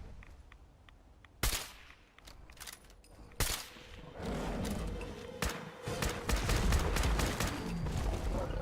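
Rifle gunfire while fighting a deathclaw in the video game Fallout 4: several sharp shots over rumbling, roaring combat noise that builds into a dense, continuous clamor.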